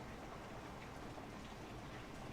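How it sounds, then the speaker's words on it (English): Heavy rain pours down in the Factorio Space Exploration game, a dense, continuous, faint hiss of falling drops that stays even from start to finish with no voices. "Dude, this is just so much rain."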